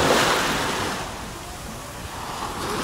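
Surf rolls onto a beach in Alanya on a Saturday evening, a steady broadband wash of breaking waves with some wind noise, fairly loud and continuous with no voices.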